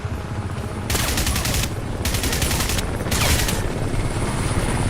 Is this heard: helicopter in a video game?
yes